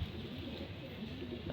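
Racing pigeons cooing in a loft, soft low repeated coos close by over faint background noise.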